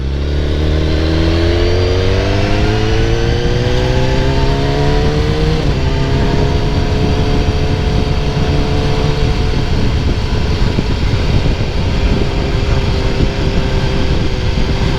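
BMW S1000R motorcycle engine revving loud and close while riding, rising harmonic pitch sweeps climbing through gears with a shift near the middle, then a steady high-revving drone.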